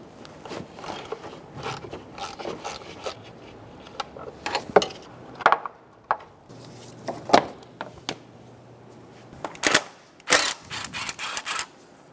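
A socket wrench backs a 10mm bolt out from under a bracket on a 2003-2007 Honda Accord engine, with uneven bursts of ratcheting clicks, metal taps and rattles close up, separated by short pauses and with no talking.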